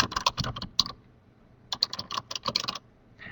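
Someone types on a computer keyboard in quick clicky bursts of keystrokes, with a pause of about a second between two clusters, close and crisp against a quiet background.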